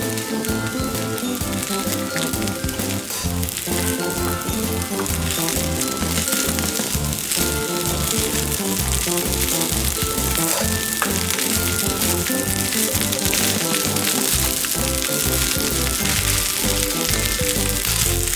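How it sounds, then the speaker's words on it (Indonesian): Chicken fried rice sizzling and crackling steadily in a hot pan on a stove while being stirred, a dense continuous fry close to the microphone with no talking. "nyalakan kembali kompor dan aduk beberapa saat untuk menghangatkan nasi goreng ayam"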